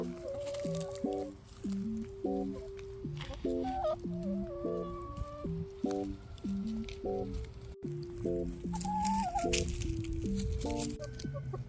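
Backyard chickens cluck repeatedly over a steady outdoor background while pecking at a treat of chopped boiled eggs and tomatoes, several birds close by with overlapping calls.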